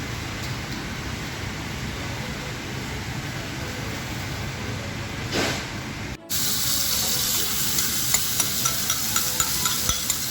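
Marinated beef with tomato and bell peppers cooks in a red clay pot, giving a dense, steady sizzle and hiss that grows louder and crackles near the end.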